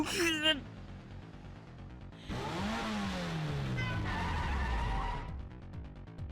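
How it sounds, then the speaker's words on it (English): A motorcycle engine in a visual novel game climbs a staircase, with a brief squeal and then a loud revving whine that sweeps down in pitch over rumbling and clatter before cutting off, with no voices. "The bike takes the stairs at an incredible speed."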